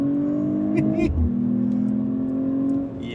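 A 2025 Mercedes-AMG CLE 53 Cabriolet accelerates hard on a highway, engine pitch climbing through a gear change, a steady interior drone, close and fairly loud.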